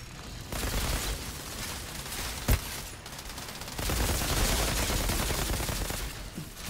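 Gunfire from the video game Outriders, with dense continuous bursts of shots that swell louder in the second half and one sharp, heavy blast standing out in the middle, no voices.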